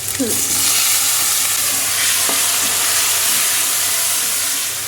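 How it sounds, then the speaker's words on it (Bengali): Tomatoes go into hot oil seasoned with bay leaf, dried red chilli, whole cumin and asafoetida. A loud, hissing sizzle bursts out at once and holds steady close by, with a light clink of a utensil and no speech. "তেলের মধ্যে দিয়ে দিই টমেটোগুলো দিয়ে দিই"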